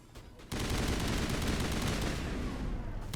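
An assault rifle loaded with polonium rounds fires in Mass Effect, a loud, steady stream of rapid automatic shots that starts abruptly after a brief quiet moment and keeps going to the end.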